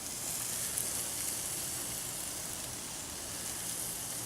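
Bacon-wrapped BBQ pork wings cook on a propane grill at about 275 to 280 degrees, giving a steady, even sizzling hiss that holds at a constant moderate level throughout.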